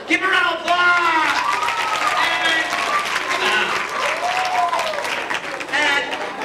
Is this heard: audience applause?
yes